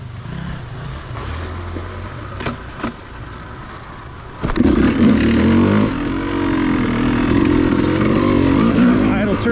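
Dirt bike engine on an off-highway vehicle trail, idling low at first and then revving up sharply into a loud sustained drone, close by, with some speech in the background.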